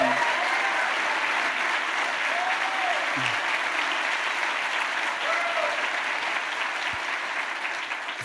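Audience at a mayor's State of the City address applauds city snow team members, sustained, even clapping from a large crowd for the full length.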